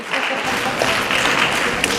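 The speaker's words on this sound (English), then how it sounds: "We can give it a clap to ourselves." Audience applause at a national youth forum on corruption in Kenya, a steady wash of clapping from a crowd, fairly loud and continuous for the whole stretch with a few sharper claps standing out near the end.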